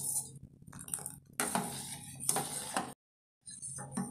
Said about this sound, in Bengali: ভালোভাবে নেড়ে দিতে হবে।